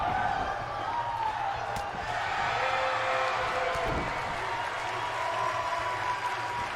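A virtual wrestling arena crowd in WWE 2K19 roars in a steady, moderate wash of cheering and applause, with occasional thuds from the ring beneath it.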